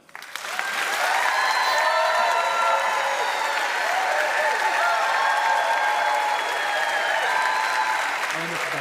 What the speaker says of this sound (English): I appreciate applause for each of them